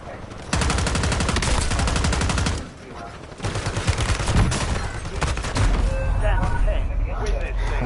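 Rapid bursts of automatic gunfire in the Warzone shooter game, loud and sustained with a brief lull before firing resumes, dense overlapping shots and thuds, with players talking faintly underneath.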